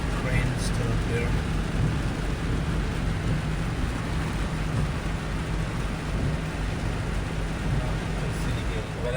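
Steady heavy rain pours over a bridge construction site on the Demerara Harbour, a dense continuous hiss with low rumbling thunder beneath it, loud and unbroken throughout, with a faint voice in the background.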